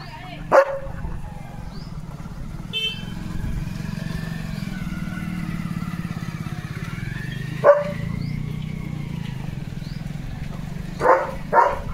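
Leo, a German Shepherd, gives a few loud, separate barks at the start, middle and end over a constant low engine-like drone outdoors.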